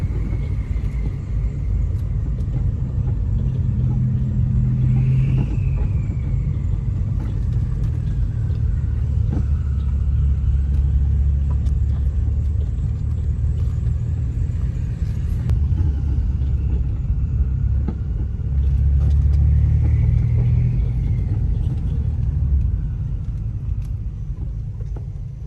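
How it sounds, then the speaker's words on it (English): A stolen car fitted with a straight-piped exhaust, with a steady low rumble carrying a faint whistling tone that rises and falls twice as it drives, continuous and close throughout. "All you hear is just turbo whistle."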